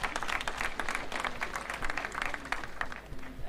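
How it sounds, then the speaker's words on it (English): An audience at a Catholic university graduation ceremony claps in a big round of applause, a steady, lively patter of many hands with some crowd murmur beneath. "Let us give all of them another big round of applause"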